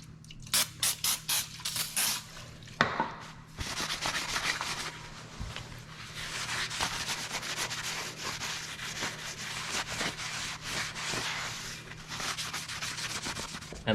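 Cleaner is sprayed in a few quick bursts onto a new brake rotor, and then the part is rubbed and wiped steadily for several seconds. The scrubbing is close and fairly quiet, with no talking.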